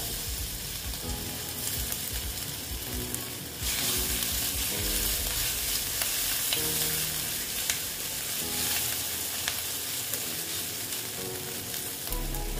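Ginger paste sizzles in hot oil in a pan while being stirred, for a vegetarian potol and chhana curry. The loud, dense frying hiss swells as the paste goes in, with scraping and clinking from the stirring and no talk.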